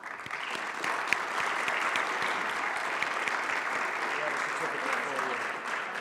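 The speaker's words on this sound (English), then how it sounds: "So I want to give a round of applause to them." A round of applause at a school board meeting, a steady wash of clapping from the room at modest, somewhat distant level, continuing evenly with no voices over it.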